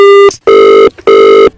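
A telephone rings loudly and close by in two long electronic bursts separated by a short pause, with a brief chirp before the first burst and no talk over it.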